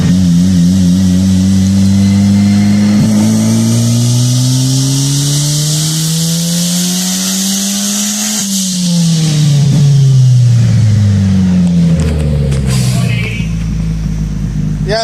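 A turbocharged car engine runs hard on a dyno with a loud, close roar. Its pitch climbs steadily to a peak, then drops sharply, and brief whines and rattles follow as it winds down.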